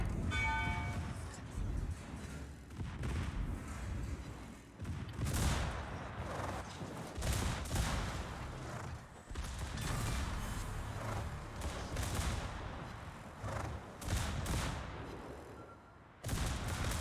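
Warship secondary guns fire during World of Warships gameplay, with repeated booming volleys and rumbling salvos rolling on almost continuously at a moderate level.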